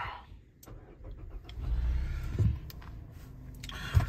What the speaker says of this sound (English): let's start my car